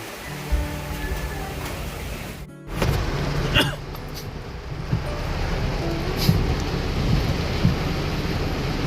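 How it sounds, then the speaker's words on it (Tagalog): Steady heavy rain pours down in a continuous wash of noise, with a few sharper knocks and splashes nearby. "Grabe guys, lakas ng ulan."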